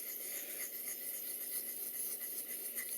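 A plane blade rubs back and forth on a 1000 grit sharpening stone in a soft, close, continuous rasping scrape with a gentle pulsing rhythm of strokes.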